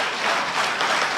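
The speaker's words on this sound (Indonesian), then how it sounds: "Beri tepuk tangan dulu untuk Tuhan kita." Congregation applauding during a church worship service in Batam, a steady broadband wash of many hands clapping at once, moderately loud and without speech, sustained evenly through the short stretch.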